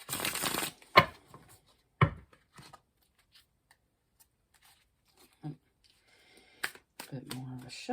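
A burst of tarot card shuffling up front, followed by scattered soft taps and clicks, with brief quiet speech near the end.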